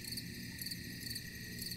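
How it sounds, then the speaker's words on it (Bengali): Crickets chirping monotonously at night in a rural village audio drama scene, a steady, dense high-pitched trill pulsing evenly throughout, soft and continuous with nothing else heard. "মৃদু একঘেয়ে ঝিঁঝি পোকার ডাক ছাড়া আর কিছুই কানে আসছে না।"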